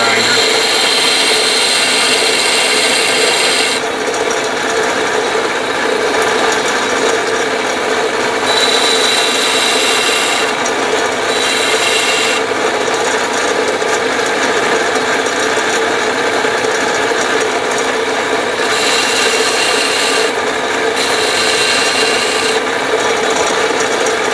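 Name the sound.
slow-speed sanding of a butcher knife tip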